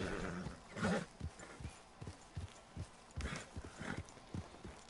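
Horse hooves clip-clop in an uneven walking rhythm in the video game Red Dead Redemption 2, close and clear, a dozen or so thudding steps with a brief snort.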